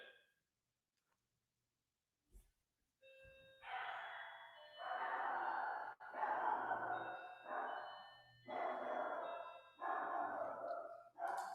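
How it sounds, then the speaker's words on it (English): A pet dog barks in bursts at close range indoors, several harmonic yelps repeating roughly every second or two across the clip, with no talk over them. "Hold on, my dog's barking."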